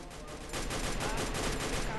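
Rapid bursts of gunfire from a Free Fire battle royale match fill the soundscape, a dense continuous volley that grows louder midway through, with faint talk beneath.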